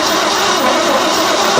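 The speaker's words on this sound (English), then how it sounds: "Go ahead, crank it a little bit." A 1970 Ford engine, parked for 22 years, is cranked over. A steady, loud mechanical whir and rattle holds on without a break and with no talking.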